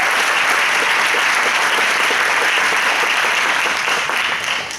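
Loud, sustained applause rings out at a banquet as a room of people claps for graduating seniors. The clapping stays thick and continuous, then eases slightly at the very end.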